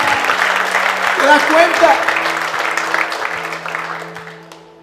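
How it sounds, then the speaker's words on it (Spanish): A church congregation applauds in a steady, fairly loud wash of clapping that slowly fades away, while someone speaks over it and a sustained tone hums underneath. "Dale un fuerte aplauso a Él."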